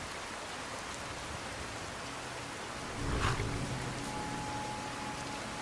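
Rain falls steadily in the Rift region of the video game Skyrim, a soft even hiss of drops with a brief low rumble swelling midway.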